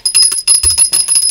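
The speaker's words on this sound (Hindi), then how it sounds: "घंटी बज रहा है" A ringing bell for an incoming video call on a comedy talk show, loud bright repeated bursts of trilling rings in quick succession with a brief gap, no talk over it.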